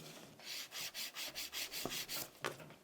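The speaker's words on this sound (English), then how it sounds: "I'm going to use the 180 grit nail file." A 180 grit nail file rubs back and forth across sculpted acrylic nails in quick, even rasping strokes, about a dozen in a steady rhythm, close and soft, with a couple of light taps and no talking.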